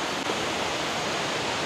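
River flowing beside Laman Rindu Campsite in Sungai Bil, a constant broadband rush of moving water that stays steady and fairly close, with no voices or other sounds breaking through.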